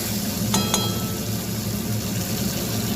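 Shrimp sautéing with turmeric and chili in a pan, a steady close sizzle and crackle of frying, with two quick sharp clinks of a utensil against the pan near the start.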